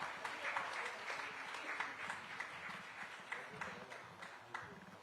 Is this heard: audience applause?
yes